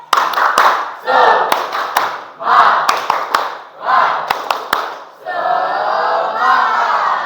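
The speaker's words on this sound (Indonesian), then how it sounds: "Kelas 10, tepuk semangat." Tenth-grade students in a classroom perform the tepuk semangat spirit clap, with crisp patterned claps punctuating loud chanted voice bursts, then a long, strong collective shout closing the routine.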